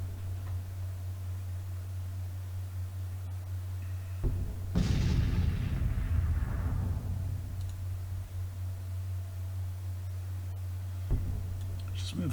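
Artillery bombardment in a Civil War strategy game, a single heavy booming blast that rolls and fades over several seconds above a steady low hum, with faint clicks around it.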